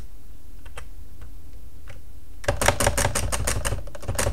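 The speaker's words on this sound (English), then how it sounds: "we can use our space keys just to add the spaces to line up the date" Keys clatter on a computer keyboard while a date is spaced out in a Word document, a quiet lead-in giving way after a couple of seconds to a rapid, close run of space-bar presses.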